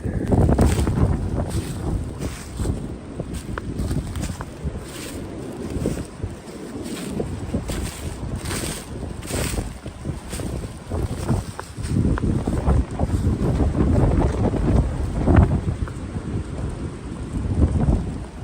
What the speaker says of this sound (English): Oh, breezy.